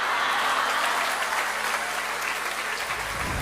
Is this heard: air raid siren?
no